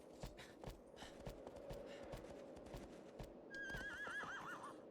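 A horse in the game Shadow of the Colossus whinnies near the end, a quavering, wavering neigh over a steady bed of hoof clops and movement noise, fairly close and clear.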